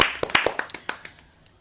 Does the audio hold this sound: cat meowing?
no